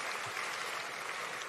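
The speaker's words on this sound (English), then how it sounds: "let's give those from various countries on our continent who are here a round of applause and thank them for being here" Sustained applause from a gala dinner audience, steady dense clapping throughout, moderately distant and even in level with no voices rising above it.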